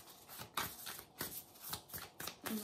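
A deck of affirmation cards is shuffled by hand in quick riffling bursts, about five soft rustling swishes in a loose rhythm, close and quiet with no talking.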